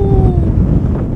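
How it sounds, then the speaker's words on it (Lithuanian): Wind blowing during extreme bottom fishing outdoors, a loud steady low roar buffeting the microphone with faint tonal whine, no talking. "vėjas pučia."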